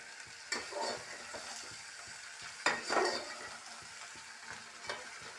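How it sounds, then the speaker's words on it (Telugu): Flat beans stirred in hot oil give a soft, continuous sizzle punctuated by a few sharper scrapes and clinks of a utensil against the pan, fairly quiet and close. "ఇప్పుడు ఇది ఆయిల్లో కలుపుకుందాము తీగ చిక్కుడు"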